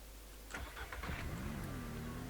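A car engine in the Ranch Simulator video game cranks with a few quick clattering turns, catches, and settles into a steady mid-pitched idle with a slight rev, close and clear with no talk.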